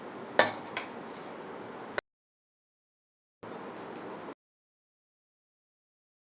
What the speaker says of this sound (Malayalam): ഇനി നമുക്കൊന്ന് ഇളക്കി സെർവ് ചെയ്യാം